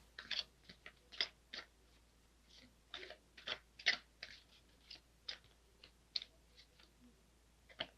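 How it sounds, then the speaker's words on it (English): Tarot cards being shuffled by hand, a string of short, crisp papery snaps and riffles arriving in irregular bursts, close up and fairly quiet, with no voices. "I was told to keep shuffling"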